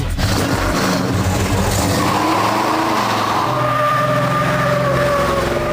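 A General Lee V8 muscle car skids loudly with squealing tires, a sustained rising screech over a deep, roaring engine drone that stays close and intense throughout.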